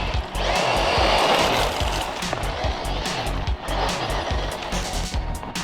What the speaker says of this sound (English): running some crazy fast Tamiya holiday buggy, guys